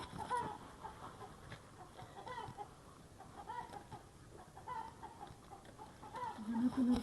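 A hen clucks softly in scattered, irregular calls, faint and somewhat distant, amid low rustling background noise.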